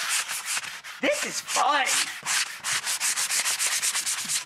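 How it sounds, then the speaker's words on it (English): Sanding block scuffing a painted faux brick wall in quick, rhythmic back-and-forth strokes, close and steady, with a brief spoken remark partway through. "The paint side, you do use a lot of the sanding blocks, right."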